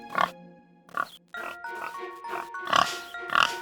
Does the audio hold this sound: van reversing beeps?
no